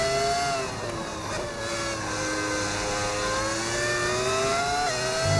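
F1 race car engine on a qualifying lap in F1 25 at Belgium or Hungary, a loud high-pitched whine that rises and falls with gear changes, sustained through the whole run with no talk.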